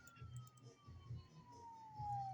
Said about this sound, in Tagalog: Uy, guys, tumutunog ang pulis.